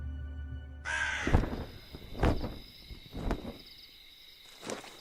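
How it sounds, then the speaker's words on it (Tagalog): A crow gives several loud, harsh caws, spaced a second or so apart over a steady low background hum, as an eerie horror-story sound effect. "Sinundan yon ng malakas na huni ng ibon"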